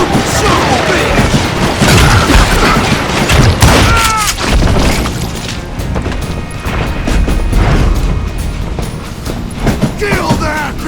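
Gunfire in the Western shooter game Call of Juarez: Gunslinger: loud, rapid volleys of shots and heavy booming impacts follow one another over several seconds, with shouting mixed in.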